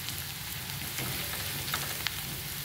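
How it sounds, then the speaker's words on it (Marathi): Coriander leaves stirred into a sizzling onion masala in a pan for a groundnut amti, a soft steady crackle with a few faint scrapes. "मसाल्याबरोबर आपण ही कोथिंबीर थोडीशी परतून घेऊया।"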